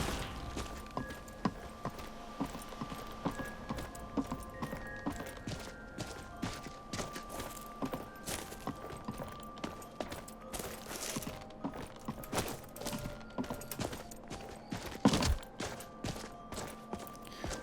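Horse hooves clip-clop steadily while riding in a video game, a rhythmic run of close, fairly quiet thuds layered over soft ambient music tones, with no talking.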